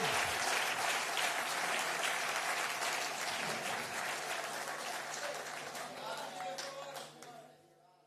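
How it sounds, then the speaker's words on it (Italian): Audience applause at a formal clean air conference with ministers, dense and steady clapping that fills the room, then thins and fades toward the end. "io direi di fare un applauso"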